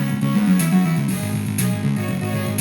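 Music from the Stunts video game plays through an Opti 16 sound card in a Compaq ProLinea 4/25s 486 retro PC: steady, synthesized tones in a repeating pattern, fairly loud and continuous, with no talking.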